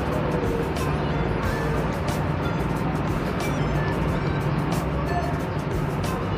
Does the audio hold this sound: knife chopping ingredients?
no